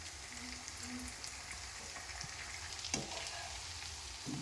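Leftover chapati mixture fries in a pan, a soft, steady sizzle with light crackling and occasional stirring scrapes, quiet and close, with one sharper clack partway through.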